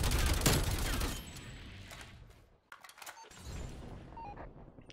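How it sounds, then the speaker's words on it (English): Gunfire from a Call of Duty match, with a loud burst of shots at the start that fades into scattered, fainter cracks and clatter, while more distant gunfire keeps sounding in the background. "There's a guy sniping back there."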